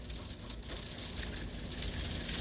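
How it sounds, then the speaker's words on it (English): Rain strikes a window during a storm, a dense, constant crackling patter close to the glass that continues without pause and without anyone speaking. "that's the rain hitting the window"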